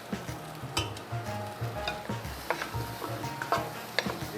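Butter sizzling and spitting in a hot pan with browning beef for a braised Burgundy-wine beef stew, a steady close frying crackle broken by occasional scrapes and clinks of a utensil against the pan.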